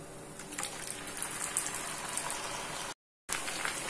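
Corn kernels frying in hot oil, producing a dense, even crackling sizzle like light rain that briefly cuts to silence before resuming.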